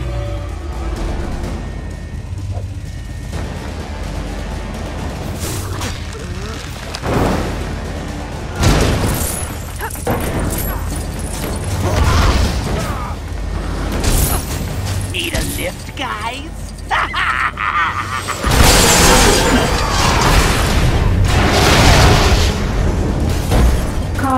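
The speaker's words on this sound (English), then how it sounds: "laboratory break-in confirmed by big explosion" A big explosion rips through a laboratory during a break-in in the Lego Marvel Super Heroes video game. The loud booms and bursts sit among continuous game sound effects and character voices, with the heaviest blast arriving late.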